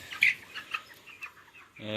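Broiler chickens in modern cages cluck and chirp in short bursts amid a soft background of many birds, with a voice starting at the very end.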